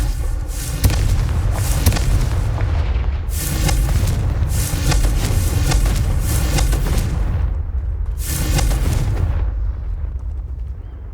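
Confringo fire spell blasts in the Hogwarts Legacy video game, a series of loud booming explosions with crackling bursts that keep rolling on and on with hardly a pause.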